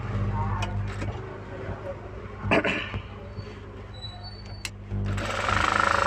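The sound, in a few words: sewing machine stitching the front of a blouse belt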